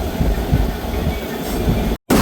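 Steady rumbling of the Ambala Cantt Express with rhythmic wheel clatter on the rails, loud and close, cutting off abruptly near the end.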